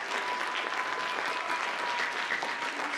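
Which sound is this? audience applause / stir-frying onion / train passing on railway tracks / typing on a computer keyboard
audience applause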